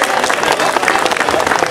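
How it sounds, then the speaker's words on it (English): An audience at the Jack Sparrow pirate show in Magic Kingdom, Disney World, Florida, applauds the volunteer swordsmen with steady, dense, loud clapping and crowd noise that runs throughout. "How about a round of applause for our excellent swordsmen?"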